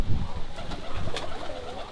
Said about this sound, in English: Oh, look at that. Pigeons.